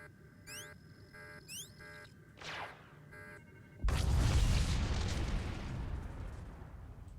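In the Star Wars: The Old Republic video game, the Death Mark is shot and destroyed in a heavy, booming explosion. It bursts in suddenly after a few electronic chirps and a whoosh, then rumbles and slowly fades.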